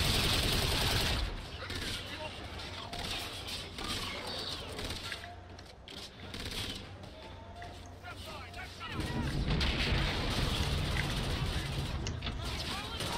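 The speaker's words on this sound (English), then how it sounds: "I'm never gonna stop shooting you, Ethan." Sustained gunfire from the video game Call of Duty: Infinite Warfare, dense and loud throughout, easing slightly in the middle before surging again, with game voices faintly mixed in.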